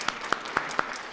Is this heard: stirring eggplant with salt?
no